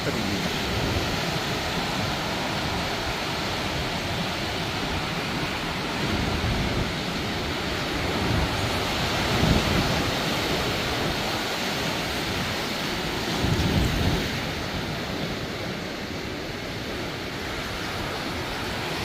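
A river rushes steadily with churning waves building up ahead, a broad continuous wash of water that stays loud and even throughout, with a couple of brief surges.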